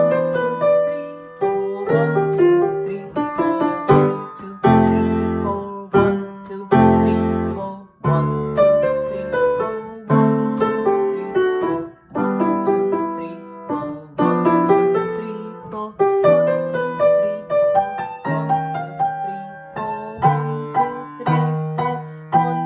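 Solo piano plays a jazzy, syncopated piece, with busy chords and a melody moving in a steady four-beat pulse. The sound is close and clear, with no voices.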